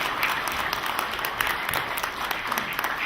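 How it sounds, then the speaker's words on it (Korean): A crowd at a 2017 general assembly of a Korean safety-prevention association applauds as the organization's flag is carried onstage. The clapping is dense and steady, filling the hall without pause. "여러분 박수로 환영해 주시기 바랍니다"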